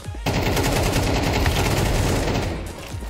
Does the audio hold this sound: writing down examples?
no